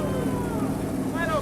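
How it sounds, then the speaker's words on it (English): An engine treated with Prolong oil additive hums steadily at a fairly loud, close idle-to-rev level, with a brief rising whine near the end and a voice talking over it. "Yeah, Elton, go ahead, rev it up."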